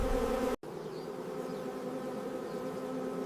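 Honey bees hum inside a crowded beehive, a dense, continuous close-up buzz broken by a brief silent gap.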